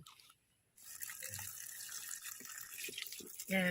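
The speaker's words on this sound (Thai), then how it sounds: "เดี๋ยวเราจะล้างให้สะอาดเลยนะคะ" Tap water runs steadily over a newly bought plant being rinsed clean at a sink, starting after a brief pause and continuing with splashing until the end.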